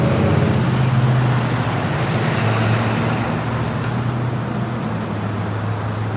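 A city bus at a stop in Surrey, Vancouver, rumbles with a low steady engine drone beneath continuous traffic noise, constant and fairly loud throughout.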